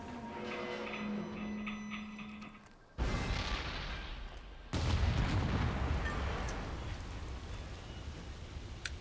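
An explosion destroys the DUP mobile command in the video game inFamous Second Son, with a sudden loud blast cutting in over tonal game music, then a second, heavier boom followed by a long rumbling, crackling tail.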